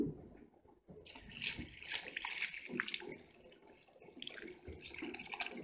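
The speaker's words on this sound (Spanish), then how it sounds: "Vamos a ponerle su agüita" Water pours steadily into a slow cooker of soaking beans, a continuous splashing stream that starts abruptly and runs on with a slight trickle.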